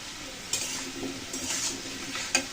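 Fried potatoes and soya chunks are stirred in a sizzling pan, the spoon scraping and clinking against the metal in a few sharp knocks over a steady frying hiss.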